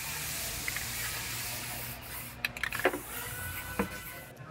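White spray paint from an aerosol can dusted over sound deadening pads inside a car body shop, a steady close hiss running throughout with a few brief clicks and bursts near the end.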